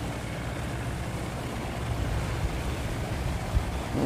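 A boat engine drones at sea near the entrance to Lagi harbour, where a fleet of fishing boats passes. The engine is a steady, dense rumble blended with wind and surf, holding at a loud level throughout.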